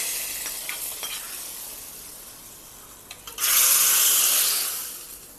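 A garlic and curry leaf tempering for prawn masala: a few light clicks of stirring give way to a sudden loud, close sizzle that swells and then slowly fades.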